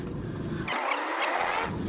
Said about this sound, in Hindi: सॉरी, ट्रैफिक है।